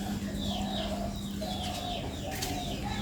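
Pigeons coo and call steadily outdoors under an overcast sky, a continuous layered murmur of soft throaty coos close by, with no talking.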